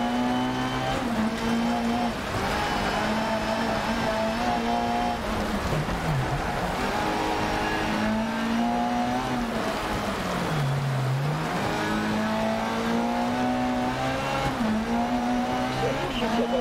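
Rally car engines drone steadily through a Dirt Rally 2.0 race, with pitch rising and dipping as cars accelerate and shift, continuous and fairly loud throughout with no speech heard.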